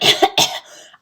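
A voice acts out a rough, theatrical cough as the Lorax in a reading of Dr. Seuss's The Lorax: two or three harsh bursts close together, then a wheezy trailing breath and a couple of small huffs.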